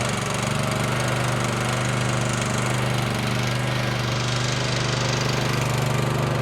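Small engine on a 34-foot Nifty towable lift running steadily after starting, a loud close, even putter with a constant low drone throughout.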